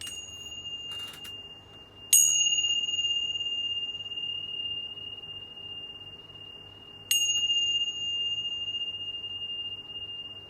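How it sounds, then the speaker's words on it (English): A chime is struck twice, several seconds apart. Each strike gives a bright, clear ringing tone that hangs and slowly fades, alone in a quiet room. "But first, let's chime."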